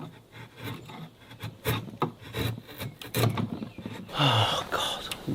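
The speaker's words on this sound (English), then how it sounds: "So now I need to chisel this out." Hand chisel carving and paring out a notch in a timber for an A-frame build, a run of sharp scraping, rasping strokes and knocks at close range, growing rougher and louder toward the end.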